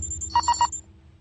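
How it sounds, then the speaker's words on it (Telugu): A mobile phone rings in a short, close burst of three quick electronic tones, then falls quiet. "అది నీ సెల్ ఫోన్ రా"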